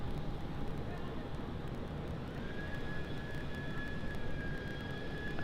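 A BAe 146-300 arrives from Adelaide at night at Sydney Airport on runway 34 left, heard as a steady distant jet engine roar with a thin high whine rising partway through.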